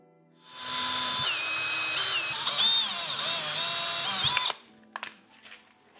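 A power drill bores small pilot holes into a wooden base, whining loudly for about four seconds with pitch shifting as it bites, then stopping abruptly, followed by a few faint knocks.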